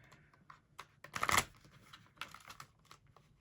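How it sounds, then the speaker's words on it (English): Tarot cards riffled and shuffled by hand, a soft papery flutter with one dense burst of rapid card slaps in the middle, close and fairly quiet, with no talking. "Cards were like, I don't think we need to be shuffled. We're shuffling anyway."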